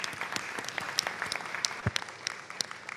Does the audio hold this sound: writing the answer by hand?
no